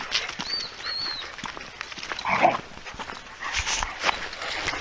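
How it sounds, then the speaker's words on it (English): A dog whimpers and yelps in short bursts with scattered footsteps and rustling, heard outdoors at an overgrown, abandoned American Adventure theme park slowly being reclaimed by nature. "Help, mad dog."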